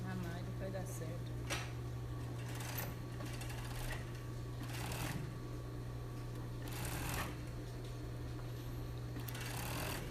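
A sewing machine stitches fabric around a foam bra cup, running in short, repeated bursts over a constant low electrical hum, with a person talking softly underneath.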